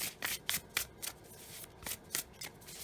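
Cards of a mass-market Wandering Star tarot deck are shuffled by hand in a quick run of crisp riffling bursts, close and fairly quiet, with no talking.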